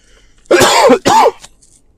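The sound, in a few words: cough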